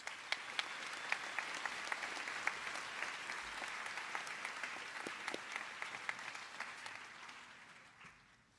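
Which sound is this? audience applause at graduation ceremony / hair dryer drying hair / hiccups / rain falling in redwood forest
audience applause at graduation ceremony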